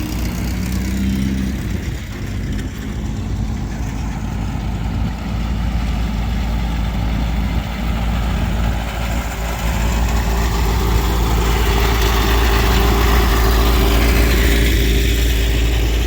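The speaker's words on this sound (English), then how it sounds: "Can't kill those old Ford tractors." Old Ford tractor engines idling at an outdoor vehicle gathering, a steady deep chugging rumble held throughout, loud and close, growing slightly stronger toward the end with no speech.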